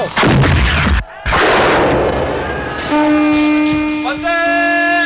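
Heavy cannon fire in a staged battle between two armies, loud booming blasts with rumbling smoke-filled aftermath, followed by sustained tonal horn-like notes over the din.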